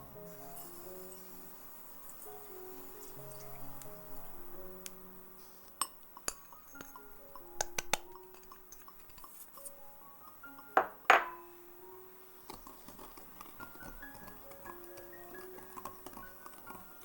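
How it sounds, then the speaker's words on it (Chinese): Sugar stirred into a mixture for French rice pudding (riz au lait), a spoon or whisk occasionally clinking sharply against a bowl amid quiet scraping, with soft music playing underneath. "然后加入糖，一样搅匀"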